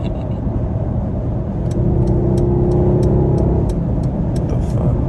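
A Mercedes-AMG GLS63 SUV engine hums steadily while driving, a loud, continuous low drone with the engine note rising slightly midway, heard close from inside the vehicle.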